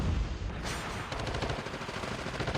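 Call of Duty Mobile gunfire during a competitive esports match, a dense, continuous rattle of rapid shots and bursts, loud and close, with no talk over it.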